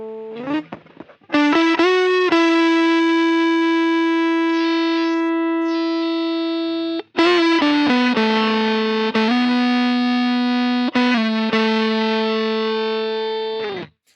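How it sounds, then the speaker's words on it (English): A loud electric guitar pushed through heavy distortion from a Sequential Pro 2 synthesizer used as a guitar processor rings out in long sustained notes, each swelling and slowly decaying, with a buzzy, harmonically rich tone. "With a little bit of distortion as well."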